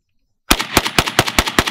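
A DPMS Black Panther AK rifle fires a quick string of seven sharp, loud shots at an even rapid pace after a moment of silence.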